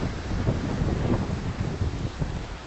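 Gusting wind and pouring rain at Ground Zero on a cold late-March day make a dense, steady roar of buffeting wind across the microphone, loud and continuous with no voices.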